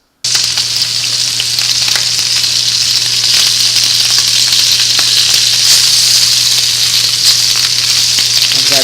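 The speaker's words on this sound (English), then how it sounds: "I'm now going to add them to the wok to brown them" Blanched beef pieces browning in vegetable oil in a very hot wok, a loud, dense, continuous sizzle close up from start to finish, no talking.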